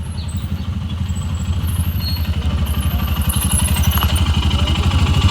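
An old Vespa scooter engine runs steadily at a rhythmic idle, a close, fairly loud putter with a rapid regular beat that builds slightly toward the end.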